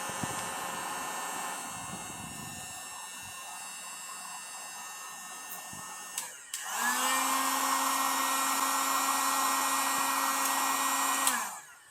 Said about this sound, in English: we're just going to simulate that now with a hot air gun